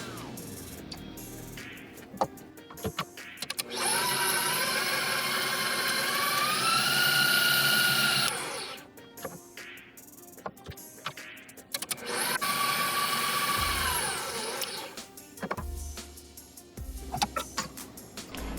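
A stand mixer whisking cookie batter runs with a steady motor whine that shifts pitch, stops, and starts again for a second long stretch, with clinks and handling noises in the pauses between.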